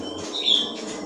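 A wambi bird at a breeding aviary gives one brief, thin chirp over steady background noise.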